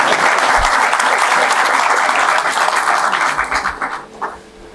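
A crowd at a university incubator forum inauguration applauds steadily and loudly, the clapping holding for several seconds before breaking into scattered claps and dying away.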